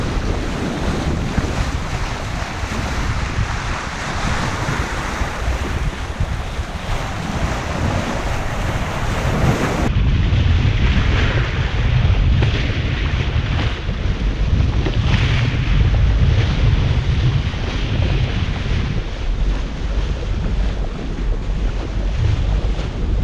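Sailboat, a Hallberg-Rassy 54, under sail on smooth seas off Dominica, with steady rushing wind over the microphone and the wash of water along the hull, loud and continuous throughout.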